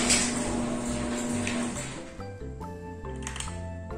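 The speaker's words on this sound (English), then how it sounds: "I'm gonna go ahead and open the door." A residential garage door with a smart Wi-Fi opener rolls open, a steady motor hum and mechanical rumble that shifts partway through and settles into a quieter running tone with faint clicks.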